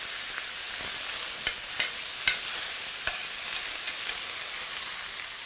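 Mushrooms fry in a pan beside salmon in creamy garlic sauce, a constant close sizzle broken by several sharp utensil clicks and stirring scrapes, with no talk.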